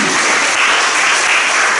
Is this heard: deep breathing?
no